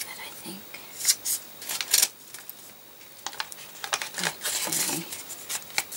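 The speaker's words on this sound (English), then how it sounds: "there's a piece of washi tape on the back, but we'll need to cut that, I think." Scissors snip through washi tape on the back of a mailed package, giving a few crisp, separate cuts mixed with the rustle of paper and handling noise, all close by.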